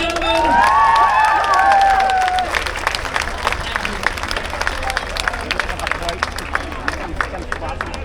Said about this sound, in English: a big round of applause for our Emmerdale friends, ladies and gentlemen